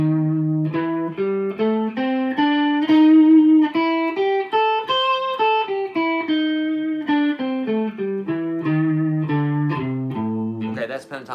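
Clean electric guitar plays a run of single notes up and down an A blues scale at a steady pace, close and clear, without talking.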